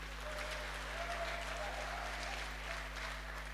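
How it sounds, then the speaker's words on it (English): Sustained applause from a church congregation for the choir at a Holy Communion service, an even wash of many hands clapping at moderate loudness throughout, with a steady electrical hum beneath. "A better clap for the choir."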